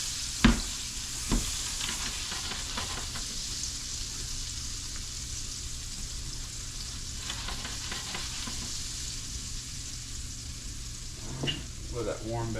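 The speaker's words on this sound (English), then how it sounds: "I like to put olive oil in the pan along with butter." Olive oil and butter heating in a pan give a steady close sizzle and frying hiss throughout, with a couple of sharp clanks at the start and light utensil stirring near the end.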